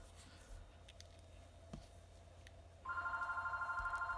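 A telephone starts ringing in a room where ball pythons are handled, a steady electronic warbling ring that repeats rapidly after quiet handling noises, fairly loud and close, with no talking over it.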